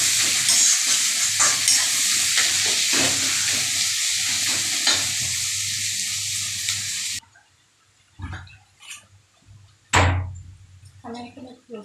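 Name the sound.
onions frying in pan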